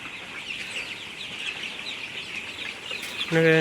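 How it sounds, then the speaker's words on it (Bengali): Vaccinated chickens feed in a poultry pen with soft, scattered clucks over a steady hiss, and a short voice or louder sound breaks in at the end. "এখন কি সুন্দর করে সব মুরগি খাইতেছে"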